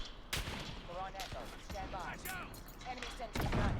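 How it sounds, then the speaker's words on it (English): Gunfire in Call of Duty: Modern Warfare, several sharp cracking shots at irregular intervals, some distant, mixed with a voice talking over the battle. "I can hear so many snipers."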